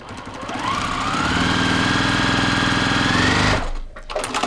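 A sewing machine stitches quilt block pieces in a steady, fast mechanical whir that holds for about three seconds and then stops abruptly, followed by faint handling noise.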